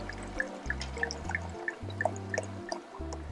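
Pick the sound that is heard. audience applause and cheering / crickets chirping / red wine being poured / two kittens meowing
red wine being poured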